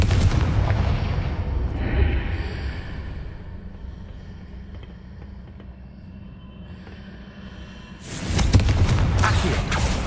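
Fiery Confringo spell blasts in Hogwarts Legacy, a loud burst of booming explosions at the start, a quieter rumbling stretch, then another heavy round of blasts near the end.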